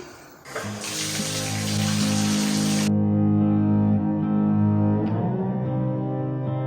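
Tap water runs into a bathtub, a loud steady gush that stops partway through, leaving a resonant ringing hum in the tiled bathroom.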